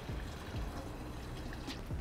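Sorrel liquid is poured into fried rice ingredients in a pan, a brief continuous trickling and splashing pour heard close up without talk.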